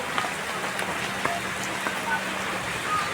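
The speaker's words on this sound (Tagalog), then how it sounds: "Ulan." Rain falls steadily, a soft constant hiss with scattered faint drips and light taps, fairly quiet and even throughout.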